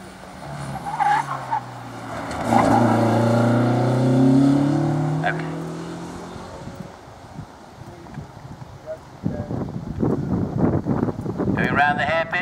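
Lotus Elise race car running a sprint track at Curborough, engine note swelling and fading as it rounds a hairpin and accelerates down the main straight, with a voice commentating over it.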